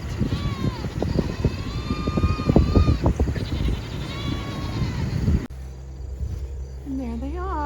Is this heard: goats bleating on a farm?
yes